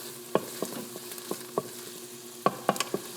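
Food sizzles in a frying pan while a utensil stirs it, with a steady hiss broken by irregular scraping knocks against the pan, close and alone with no talking.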